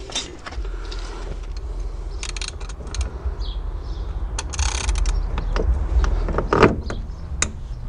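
A 17 mm flat wrench works on an Alfa Romeo 166 upper control arm. Close metallic clicks, scrapes and short rattling bursts come at irregular intervals over a low workshop background, with no talking.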